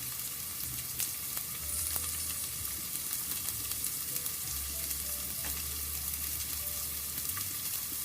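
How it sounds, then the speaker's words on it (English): Quinoa at a rolling boil in a kitchen pot, a dense continuous bubbling hiss with scattered small pops and a faint low rumble from the stove, close and steady with no voices. "It's at a pretty good boil."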